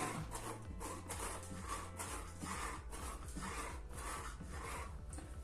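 Brush strokes rubbing black paint across a canvas surface for an abstract city painting, a steady repeated scraping swish in rhythmic passes with soft music playing underneath, no talking.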